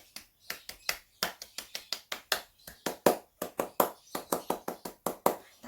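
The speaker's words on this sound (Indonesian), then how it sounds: "2 kali tepuk pramuka." Scout-style rhythmic clapping, the Indonesian tepuk pramuka pattern, is performed twice in a row: a quick, crisp sequence of sharp hand claps in a set rhythm with short gaps, close and clear, with no talk over it.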